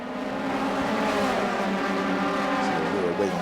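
Formula race cars of the Euroformula Open series at Monza in Italy, a steady loud engine drone with a car juddering under cornering forces, heard alongside continuous commentary speech.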